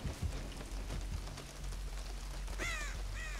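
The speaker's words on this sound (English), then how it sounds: "spooked up a damn crow" A crow in Dead by Daylight gives two harsh caws near the end, following a stretch of low rumbling ambience and soft pattering that resembles rain.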